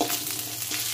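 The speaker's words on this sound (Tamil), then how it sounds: "நெய் ஹீட் ஆனதுக்கப்புறம் முந்திரி திராட்சையும் வணக்கி எடுத்துக்கலாம்" Cashews and raisins fry in hot ghee for jackfruit kesari, giving a continuous close sizzling hiss with soft bubbling and no voices.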